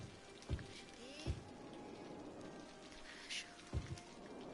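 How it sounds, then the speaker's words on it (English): Rain patters steadily in the city-building game Cities: Skylines, a soft continuous hiss punctuated by a few low thumps, with faint background tones. "this rain is starting to really get on my nerves as well"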